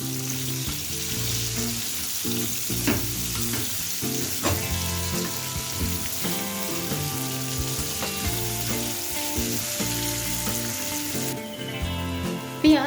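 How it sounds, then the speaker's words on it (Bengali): Sliced onions fry in oil until lightly browned, producing a moderate, continuous sizzle with intermittent spatula clinks and stirring, brightening into a sharper hiss near the end. "আমি স্লাইস করে কেটে রাখা পেঁয়াজটাকে অ্যাড করে দিলাম পেঁয়াজটাকে এবার হালকা লাল করে ভেজে নেবো"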